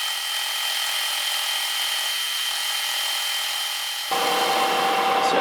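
Router fitted with a repaired roundover bit taking a light cut along a wood edge, a steady, loud high-pitched whine throughout that roughens and deepens near the end.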